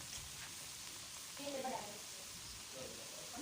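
Egg chips sizzle in hot oil as pieces go into a pan one by one, producing a soft, steady crackling hiss with brief bubbling swells, faint and close.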